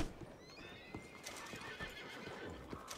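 A horse in the Red Dead Redemption 2 video game whinnies over a quick, continuous clip-clop of hooves, fairly quiet against steady outdoor game ambience with no talking.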